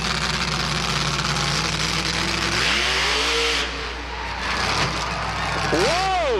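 Boris monster truck's engine roars loud and close during a wheel stand run at a truck and tractor pull, revving hard with a rising, falling pitch while an announcer's voice and crowd noise sit underneath.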